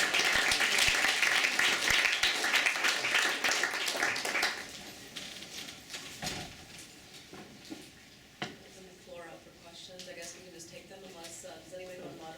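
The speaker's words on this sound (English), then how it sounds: "I'm going to start by giving you a round of applause." Audience applause at a talk on criminal justice and storytelling, a dense wash of clapping for about four seconds that then thins out as voices take over.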